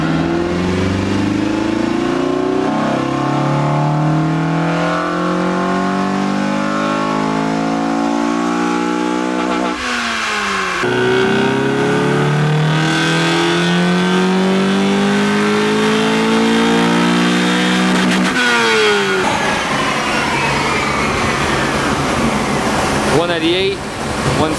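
Honda Integra daily-driven all-motor engine revving hard on a dyno for a baseline pull, rising in pitch through repeated sweeps with brief drops between gears, loud and close throughout, with some talk underneath.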